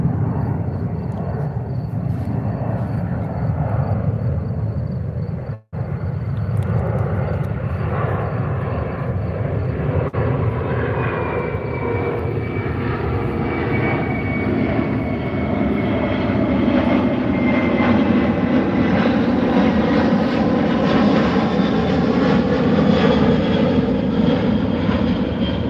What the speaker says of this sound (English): I'm gonna let this plane pass.